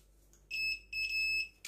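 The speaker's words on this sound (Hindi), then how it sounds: "ये अगर बीप की आवाज़ नहीं आ रही तो फिर स्पीकर ख़राब है" Beeps from a mobile phone speaker under repair testing: two clear, steady electronic tones, a shorter one and then a longer one, heard close and alone, followed by a brief noise burst.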